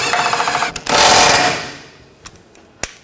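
A bolt on a Nissan Rogue front control arm is run down with a power tool, giving a loud whirring, chattering mechanical burst of about a second, then a fade, with a couple of sharp clicks near the end.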